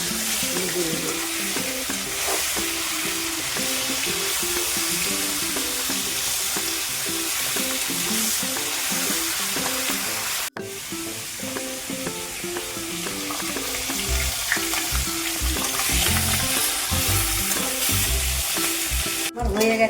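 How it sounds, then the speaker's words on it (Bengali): Fish heads fry in hot oil, a loud continuous sizzle up close with stirring and scraping noises layered over it throughout. "দেখো মাছগুলো এইভাবে মাথাগুলো ভেজে নেব"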